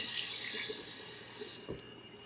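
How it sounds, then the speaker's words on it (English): A head shaver is rinsed under a running tap, with a steady, close hiss of flowing water and splashing that softens slightly near the end, plus one brief knock. "I'm going to rinse it off again. Just run it under here"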